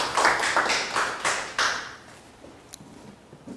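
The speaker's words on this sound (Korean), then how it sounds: "하나님께 영광을 박수." A church congregation at a Sunday worship service applauds, a brief burst of fairly faint clapping that fades out within a couple of seconds.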